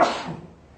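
A single sharp sneeze bursts out loud and close, then fades quickly into quiet.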